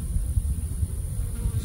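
Honey bees buzz close by near a beekeeper, a steady low droning hum with slight wavering that holds throughout, fairly loud and with no talking.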